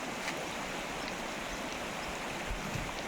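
A river flows through deep jungle forest, a steady wash of rushing water that fills the whole stretch evenly with no voices over it.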